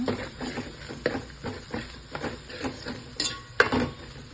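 Chilli powder and coriander powder fry in a pan for a Kannada dish, with soft sizzling under repeated scraping and stirring taps of a spoon against the pan, close and fairly quiet.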